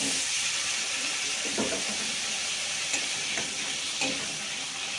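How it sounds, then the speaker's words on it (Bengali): Potatoes fry in hot oil in a heated wok, a loud continuous sizzle and hiss with occasional stirring scrapes and pops cutting through the steady crackle. "তো ঠিক আছে, এই তেলের মধ্যেই আমি আলুগুলোকে ভেজে নিচ্ছি।"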